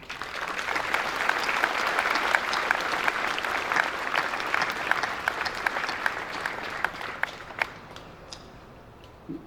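Sustained audience applause at a ceremony unveiling a bison sculpture for the 126th regiment in Brive: dense, steady clapping from a large crowd that holds strong, then thins toward the end with a few scattered individual claps.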